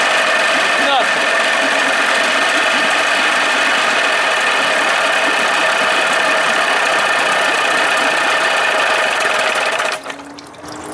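A 1982 Johnson 25 hp outboard motor runs loud and steady with a constant buzzing drone for about ten seconds, then cuts out abruptly near the end.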